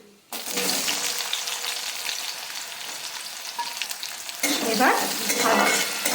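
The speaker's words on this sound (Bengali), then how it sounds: "কারি পাতা দিচ্ছি যেই গন্ধটা বেরিয়ে গেছে এবার আমি পেঁয়াজ দিচ্ছি" Onions and curry leaves hit hot oil in a pan for upma, a South Indian breakfast, setting off a loud, steady sizzle that keeps going with bursts of stirring near the end and no talk.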